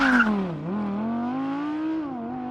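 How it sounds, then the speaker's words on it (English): Audi R8 V10 accelerating hard from a launch-control start, a loud smooth engine tone rising and dipping through quick gear changes, heard alone without talk. "standing hard on the brake before standing quickly on the accelerator at the same time"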